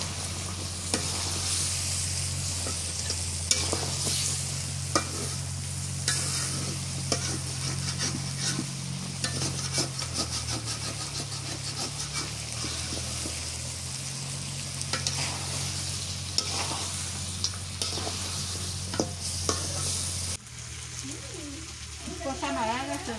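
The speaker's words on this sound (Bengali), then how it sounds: "আলু দিয়ে দিই, একটু কষাপ করে নিলে আমার ভিতরে আলু দিয়ে কষাপ দিই।" Potatoes are stirred and fried in a pan over a village cooking stove, a loud continuous sizzle with scraping stirs throughout, then a quieter stretch near the end with birds calling.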